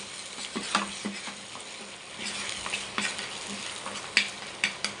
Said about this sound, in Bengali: শুটকি বড়ার জন্য শুটকিটা একটু বাগার দিয়ে নিতেছি।